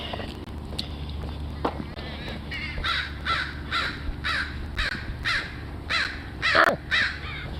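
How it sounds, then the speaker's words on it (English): Crows caw outdoors in a repeated series of harsh calls, loud and fairly close, over low ambient rumble and occasional footsteps. "Crow's going off."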